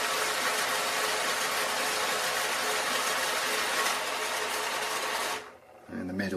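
A LEGO Power Functions motor fitted in a Helicarrier build whirs with a steady, close, buzzing whine for several seconds, then cuts off abruptly, and a voice follows briefly.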